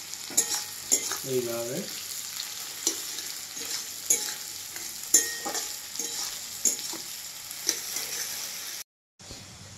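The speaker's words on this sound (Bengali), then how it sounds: "পেঁয়াজটা লাল লাল করে ভাজবো" Onions fry in a pan while being stirred, giving a continuous sizzle with repeated scraping strokes at a fairly close distance, and a voice briefly speaks over it.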